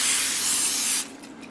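A steady pressurized hiss of cooking spray onto a parchment-lined baking tray for about a second, close and loud, then it cuts off to a quiet room.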